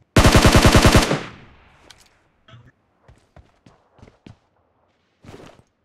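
A loud, rapid burst of about a dozen gunshots from a video game firefight opens, decays into echo, and gives way to scattered clicks, thumps and muffled game sounds.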